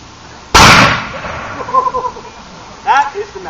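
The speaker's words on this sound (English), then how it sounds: "That is the matchlock musket." A matchlock musket fires once at a Renaissance festival firearms demonstration, a loud sharp blast with a rumbling tail, followed by people talking nearby.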